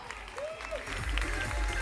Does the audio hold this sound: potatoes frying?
no